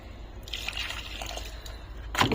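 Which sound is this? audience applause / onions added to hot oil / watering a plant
watering a plant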